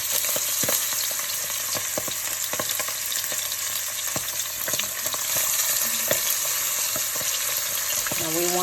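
Chicken thighs frying skin side down in a pot, a loud continuous crackling sizzle with scattered pops and spatters, close and steady, with a brief clatter near the end.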